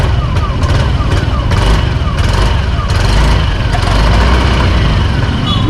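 Yamaha NMAX V2 scooter engine runs loud and close on its center stand, with a steady rough drone and brief rising revs, and a voice talks over it.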